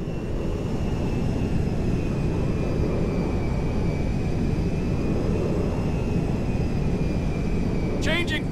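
Jet engines roar in a steady, loud drone as the Meriwether jet lands at Mackenzie Field in GTA 5, a continuous whine over the whole span, with a brief voice at the end.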